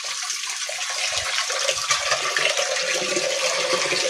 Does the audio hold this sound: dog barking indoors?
no